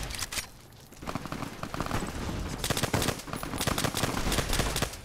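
Rapid bursts of gunfire from a small, quiet firearm in Fallout: New Vegas, crackling in dense clusters with brief pauses between volleys, loud and close throughout.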